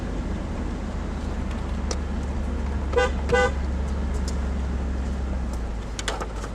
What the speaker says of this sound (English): Always sound the horn before coming into camp.